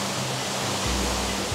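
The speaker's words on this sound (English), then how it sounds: "The water coming off the waterfall is a lot," Waterfall in Panama pouring heavily, a loud broadband roar of rushing water, steady and close, with a low rumble that deepens partway through.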